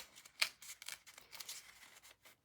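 Hand tearing a sheet of paper for a junk journal, a few quiet, quick ripping bursts separated by short pauses.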